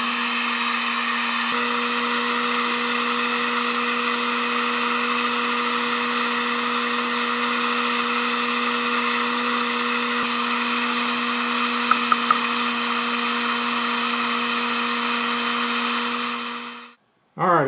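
A heat gun used for powder painting fishing jig heads blows a steady, close motorized hum and airy hiss for about seventeen seconds, then cuts off abruptly.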